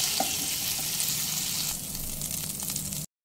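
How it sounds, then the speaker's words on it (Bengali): Shrimp sizzle steadily while being fried and stirred in a pan, a continuous close crackle with light scraping, easing slightly in intensity before cutting off abruptly. "কয়েক মিনিট চিংড়ি মাছ নেড়ে চেড়ে ভেজে নিয়েছি।"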